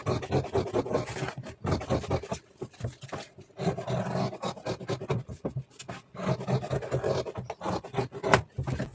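Scissors or shears cutting blouse fabric on a tailor's table, a steady run of close rasping, scratchy snips and rubs in repeated bursts with short pauses between.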